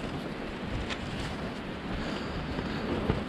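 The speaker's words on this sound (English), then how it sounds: "It's a little windy." Steady wind blows and buffets the microphone on the Bay of Fundy coast, a constant broad rushing with a faint wash like distant surf underneath.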